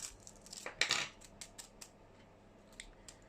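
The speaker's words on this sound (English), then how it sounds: "I'm going to grab some scissors, chop that off." A few sharp metallic snips of scissors cutting nail foil, close and quiet, followed by faint scattered clicks in a hushed room.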